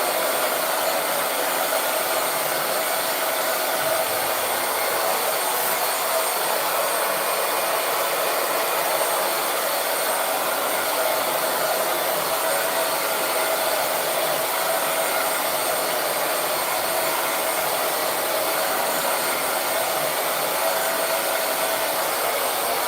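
A hair dryer runs continuously at close range while blow drying tailbone-length 4c hair, a steady loud whirring blast without pause.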